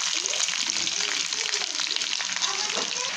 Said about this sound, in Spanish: Freímos bien el tocino y agregamos el resto de los ingredientes. Cebolla, el morrón y la carne